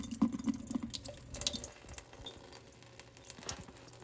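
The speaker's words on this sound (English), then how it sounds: "So just gonna lightly rinse that vermiculite off." A gentle stream of water rinses vermiculite off turtle eggs, producing soft patter and drips near the mic with small splashes throughout.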